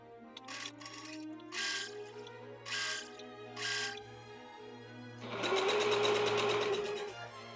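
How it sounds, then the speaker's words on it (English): A sewing machine understitches the sides of a dress, starting in several short stitching bursts and then running continuously for about two seconds, a quiet, close mechanical whir and tick with no talking. "now we're going to understitch both of the sides"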